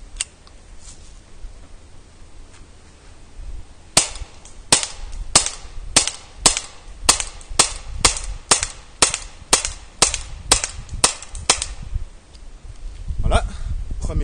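An airsoft gun fires a first magazine at a target: a steady series of about a dozen sharp, snappy shots spaced roughly half a second apart, following quieter handling noise.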